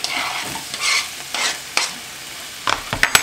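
Onion, garlic and ginger hit hot rapeseed oil in a pan, giving bursts of loud sizzling and stirring clatter that rise and fade, followed by a few sharp clacks near the end.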